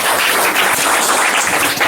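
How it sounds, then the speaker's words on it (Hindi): An audience at a small coaching institute's results celebration claps in a dense, continuous wash of applause. It is loud and even throughout, with no talking. "ताली बजाइए एक बार।"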